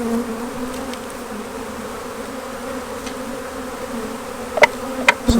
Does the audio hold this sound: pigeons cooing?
no